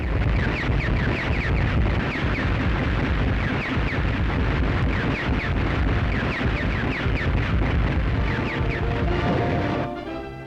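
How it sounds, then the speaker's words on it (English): American Army rocket launchers fire in action in a WWII newsreel, a dense, continuous roar of blasts and rushing noise on an old film soundtrack that fades near the end. "the American Army's secret rocket launchers are seen in destructive action"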